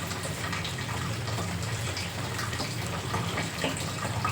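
Water poured into a pan of tempered vegetables for upma, a Karnataka breakfast with mixed greens, gives a steady rushing gush that runs unbroken for several seconds, close and alone with no voices.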